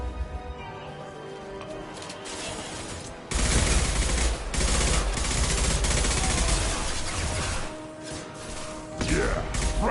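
Sustained automatic gunfire in the video game Mass Effect 2 on Insanity difficulty, loud and dense: a lighter patter first, then a heavy continuous burst of shots and impacts that thins out near the end.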